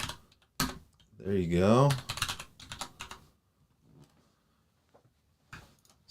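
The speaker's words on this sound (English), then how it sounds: "Keep typing." Fingers tap on a computer keyboard in short bursts of clicks, close and fairly soft, with someone talking over part of it and quiet pauses between the typing.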